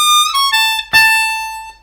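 A blues harmonica in a lesson slides down in a quick glissando from a bent 9 blow to a held 7 blow, bright and close, sustaining the final note.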